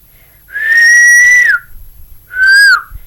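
A person whistles loudly and right up against the microphone, holding one long, steady note that bends downward, then giving a shorter second note that slides down at its end.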